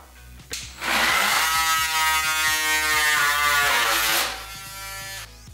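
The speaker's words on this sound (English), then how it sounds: "So let's tackle it with a multifunction tool." An Ozito multifunction tool cuts off wood to finish a trench for a pot plant stand, its oscillating blade buzzing loudly and steadily for about three seconds, close up, with no speech.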